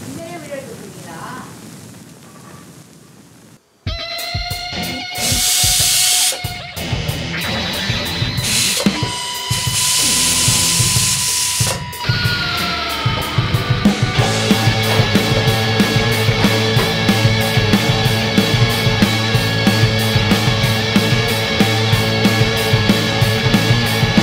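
A pressure cooker of drumstick sambar vents steam in a home kitchen, letting out two loud bursts of hiss among clattering noises after a quiet spoken opening, followed by a dense, rhythmic background.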